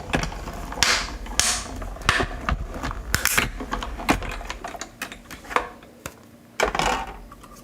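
A manual die-cutting machine cranks a Christmas Classics die through its plates, giving uneven clicking and ratcheting bursts with short pauses, close and fairly loud.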